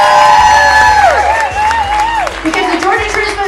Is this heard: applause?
yes